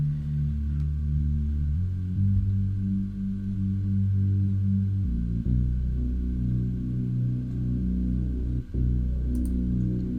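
A deep, dark synth hard lead in a trap beat, highs rolled off, plays sustained low notes that shift pitch every few seconds, loud and alone.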